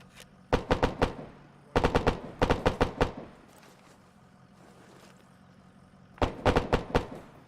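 Bursts of automatic gunfire crack out during military ambush training, coming in four quick rapid-fire volleys of several shots each, loud and fairly close, separated by short quiet gaps.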